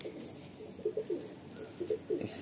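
A Madrasi pigeon gives a few soft, close coos in two short bursts, low and throaty over a faint background hiss.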